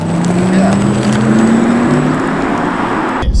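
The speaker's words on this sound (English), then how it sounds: "they emphasize how the battery engine sounds" A Porsche Taycan electric car's smooth whine rises steadily in pitch as it accelerates close by, ending abruptly with a low thump.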